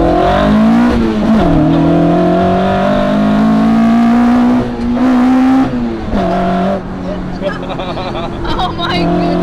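A Toyota AE86 with a 4A-GE engine and individual throttle bodies revs hard on Irish roads, its loud, close engine note rising and falling repeatedly through gear changes.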